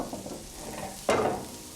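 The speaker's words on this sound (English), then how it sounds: "then it's time to add the tofu." Tofu hits a hot pan of onions and red and yellow peppers, and a sudden loud sizzle bursts up and holds steady after a quiet moment.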